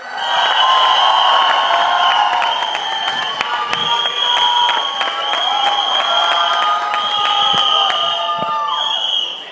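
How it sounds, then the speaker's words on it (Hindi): Loud crowd of fans applauding and cheering with whoops and high shouts at a Bollywood film trailer launch event in India, sustained throughout with scattered claps. "एक बार जोरदार तालियां"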